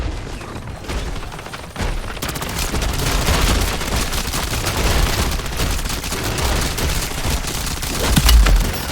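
Rapid gunfire in the Modern Warfare Zombies video game, dense bursts of automatic shots and booms running continuously and loudly throughout, with no voice over it.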